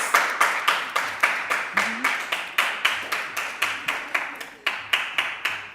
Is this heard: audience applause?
yes